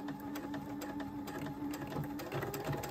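Sewing machine backstitching the lining of a fabric necklace pouch, a rapid steady mechanical stitching patter with clicking needle strokes, close and alone.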